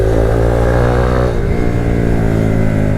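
A 2022/23 Honda Grom motorcycle engine running loud and close while riding and leaning into a corner, a steady mid-pitched drone with the engine note shifting partway through; no voices.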